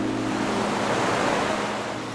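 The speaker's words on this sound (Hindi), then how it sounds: "पता नहीं समुद्र की लहरों में ऐसी क्या बात होती है कि उनके पास आके ध्यान से उनकी गुफ्तगू सुन के" Sea waves break on a beach at Mulki, India, in a continuous, fairly loud roar of surf with a slight swell and fade. Some wind noise sits under it, and no voices are heard.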